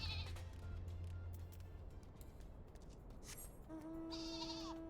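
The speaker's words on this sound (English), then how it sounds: "And it makes a very cute little sheep noise." A short bleat from a sheep in a video game sounds near the end, faint against a quiet background with scattered clicks beforehand.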